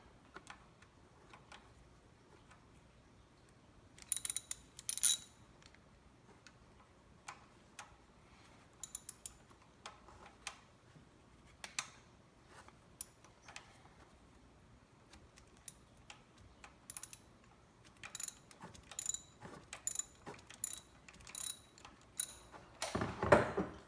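Ratchet and extension loosening the valve cover bolts on a Kia Rio engine in a garage: quiet, scattered clicking ticks in short bursts, with a sharper clack near the end and no talk.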